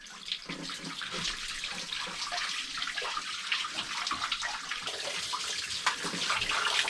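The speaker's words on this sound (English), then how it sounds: "that's where the water comes pouring out." Water pouring from a tap into a sink aboard a boat, a steady close splashing gush that runs continuously for several seconds.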